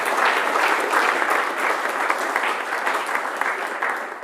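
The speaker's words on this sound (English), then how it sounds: "Everyone, a round of applause for Susan." Conference audience applauds a departing guest, a full, dense roar of many hands clapping steadily and fairly loud, holding evenly for several seconds with a slight fade toward the end.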